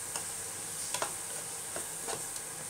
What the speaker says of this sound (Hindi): तो इस मसाले को अच्छी तरह से हमने भून लेना है।